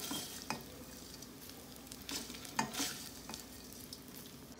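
Dry fruits roast in a pan with a soft, steady sizzle, broken by a few light scrapes and stirs that stand out now and then. The sound is faint and close, with no talking.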